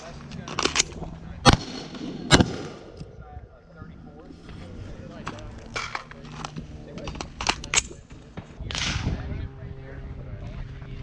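Rifles and pistols firing on a range after a fire command, several sharp loud cracks spaced irregularly with some overlapping shots, with people talking around them.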